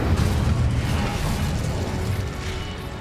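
The Incendio fire spell cast in Hogwarts Legacy, a loud roaring burst of flame that rumbles on continuously before easing off slightly.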